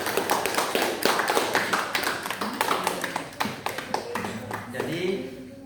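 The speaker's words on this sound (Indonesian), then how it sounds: "Kasih tepuk tangan dulu untuk Titin." A class of students claps for a classmate in a school lesson, a run of brisk, uneven claps close by, with voices chattering underneath and a lone voice near the end.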